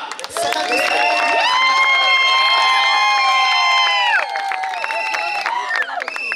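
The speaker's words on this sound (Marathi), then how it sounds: "मित्रांनो जोरदार टाळ्या" A crowd cheers and shouts at a cricket premier league prize ceremony during a trophy presentation, sustained high, excited voices filling the space with some clapping underneath.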